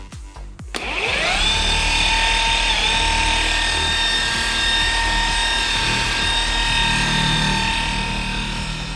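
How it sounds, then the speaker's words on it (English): A Flex rotary buffer with an orange pad and Cartex Rapid 4000 dustless compound polishing car paint: the motor starts with a sharp rising whine, then runs loud and steady close by, no talk. "We're using our flex buffer, the new Cartex Rapid 4000 dustless compound, the orange pad. We're now going to start buffing."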